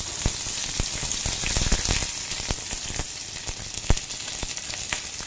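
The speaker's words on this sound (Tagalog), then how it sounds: "Igigisa natin yung sibuyas." Onions sautéing in a non-stick pan that has lost its coating, giving a steady close sizzle and crackle with scattered sharp pops and spatters throughout.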